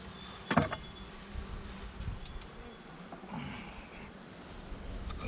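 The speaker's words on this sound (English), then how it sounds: "Getting to be a few more bees now." Bees hum around an open beehive being smoked, a soft, steady buzz close by with a brief louder rustle near the start and faint background noise throughout.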